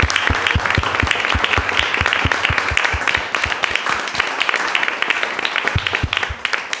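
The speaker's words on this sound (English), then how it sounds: "So can we all give a round of applause to the students?" During a student presentations day, an audience gives the students a round of applause. The crowd's claps are close and dense, with several sharp nearby hand claps standing out from the steady clatter for about seven seconds.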